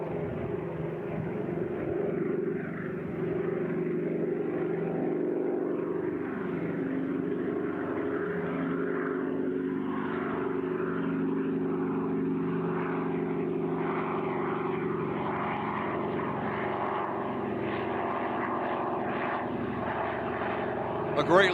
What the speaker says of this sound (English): we have the Skyraider, and with a quick shakeout, about to enter the stage here, and we'll see and hear this piece of flying history